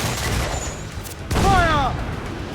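Ship cannons boom in a naval battle in Assassin's Creed 4 Black Flag, a loud broadband blast rolling out behind a shouted voice, with background rumble and battle noise before it.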